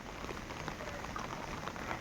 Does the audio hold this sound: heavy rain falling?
yes